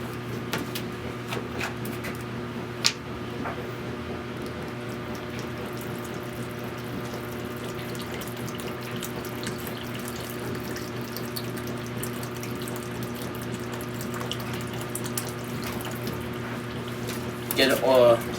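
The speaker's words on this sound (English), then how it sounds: "Now what I'm going to do is I'm going to add in the water." Water runs steadily from a tap for a long stretch into plaster mix, a continuous hissing stream with a faint mechanical hum beneath, ending with a brief louder splash.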